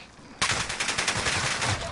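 A sudden rapid burst of automatic gunfire in a video game starts abruptly and rattles on continuously for over a second, loud and close.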